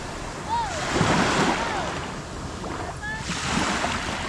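Sea waves at a provincial Philippine shore wash in a continuous broad rush that swells and ebbs, with faint voices and brief chirping tones drifting over the surf.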